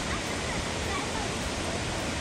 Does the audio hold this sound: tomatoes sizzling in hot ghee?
no